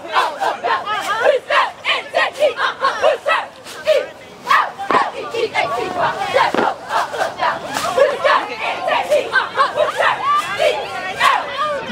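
Cheerleading squad chanting a cheer in unison, a rhythmic run of loud shouted calls with group voices rising and falling, and a crowd murmur running underneath.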